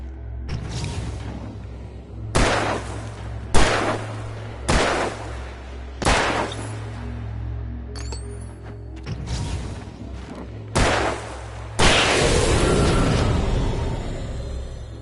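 Gunfire from a handgun in the dark action game Alan Wake: about seven sharp, loud shots spaced a second or two apart, each with a short ringing tail, ending in a longer burst of noisy roar.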